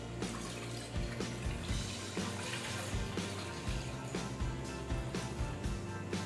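Water runs from a tap into a cooking pan for vegetable soup, a continuous splashing trickle with small irregular gurgles and clinks, with no voices.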